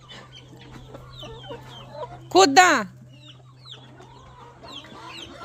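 Hens and small chicks clucking and peeping around a backyard coop, with one loud squawk standing out near the middle over quieter chirps and a steady low hum, while someone speaks briefly.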